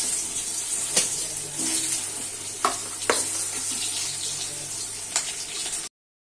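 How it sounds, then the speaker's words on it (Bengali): Potatoes fry in oil left from frying fish, giving a steady close hiss and sizzle broken by a few short clatters before it cuts off. "এখন ওই তেলের মধ্যেই আমি দিয়ে দিচ্ছি আলুগুলোকে একটু ভেজে নেব।"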